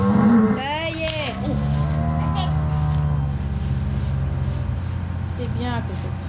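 A cow moos loudly during calving on a livestock farm, several drawn-out bellows close by, with people talking nearby and a low background hum.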